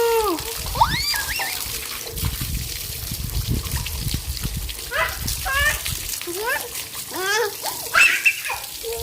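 Water pours and splashes while a mango tree is watered outdoors, a continuous trickle and patter throughout, with children's voices chattering over it.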